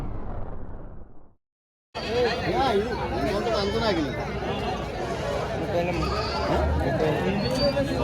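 Goats bleat over and over at the crowded, noisy Gokavaram goat market, many animals calling at once amid steady background chatter.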